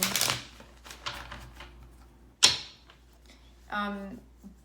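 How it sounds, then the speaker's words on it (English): Tarot cards being shuffled in a few quick riffling bursts, the first loud at the start and another sharp one midway, with a brief creak-like tonal sound near the end; no one speaks. "when I did the pre-shuffle"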